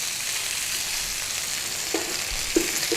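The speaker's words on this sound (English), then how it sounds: "Give your sausages a little turn. Make sure they're browning up on all sides." Sausages fry and brown in a pan for a breakfast sandwich, giving a constant bright sizzle throughout, with a few soft knocks near the end as they are turned.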